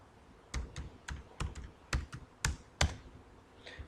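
Someone types a password on a computer keyboard: about a dozen crisp, quiet key taps in an uneven rhythm, close by, with no talking.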